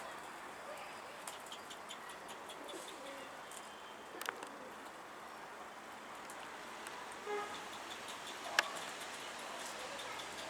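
Pigeons coo softly and intermittently at a pigeon loft, faint and somewhat distant against a quiet outdoor background, with a couple of brief sharper bird calls and no talking.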